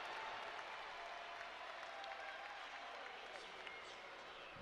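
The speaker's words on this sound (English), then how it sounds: "And that brings an eruption from this crowd." Loud, dense crowd applause and cheering at a Navy vs Army women's volleyball match, sustained for several seconds as a broad wash of sound.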